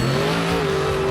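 A toy monster truck, number 10, driving along, giving a steady loud whining motor tone with a slight pitch shift, close and continuous for about a second with no voices.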